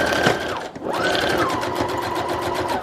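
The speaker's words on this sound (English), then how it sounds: "I'm just going to take one more round of the sewing machine, go around the corner" Sewing machine running fast as it stitches a border around a fabric collage tag, a close mechanical buzz that pauses briefly and then resumes at a steady, even pitch.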